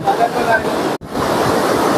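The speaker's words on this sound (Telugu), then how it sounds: "ఈ హోర్ ఇదే జూరాల ప్రాజెక్ట్ హోర్ చూడండి దద్దరిల్లిపోతున్నాయి నీళ్లు" Floodwater released through the open gates of the Jurala project dam roars in a loud, continuous broadband rush, dipping to near silence for an instant at the midpoint before surging back.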